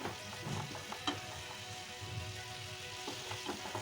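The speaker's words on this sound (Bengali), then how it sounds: "ঘি ছাড়া অবধি এই ছানা আমাদের ভেজে নিতে হবে।" Chhana mixed with jaggery fries in ghee with a soft, low sizzle, broken by a few light scrapes of stirring, with no voices.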